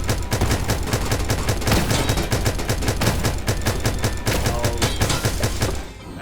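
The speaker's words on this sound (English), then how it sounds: "that's, you know, world-class strafing right there" Rapid strafing gunfire in the space game Starbound, a dense, continuous barrage of sharp shots that stays loud and steady for about six seconds before cutting off.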